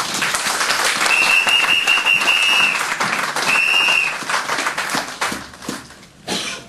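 A church congregation bursts into loud, sustained applause with some cheering and a sustained tone, tapering off toward the end into scattered claps.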